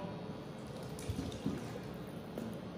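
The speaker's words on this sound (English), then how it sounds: "We can put a little bit of water." Water trickles and splashes steadily into a pot of bolognese tomato sauce, a soft continuous pouring sound with a few small bubbling plops, fairly quiet.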